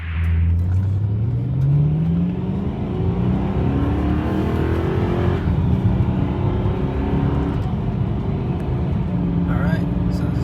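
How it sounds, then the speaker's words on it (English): A modified BMW E92 M3 with a raised 8600 RPM redline starts and settles into a warm-up idle, the engine note rising at first then holding a loud, steady rumble close by, with faint voices in the background. "we'll turn on the car and then we'll get the car warmed up"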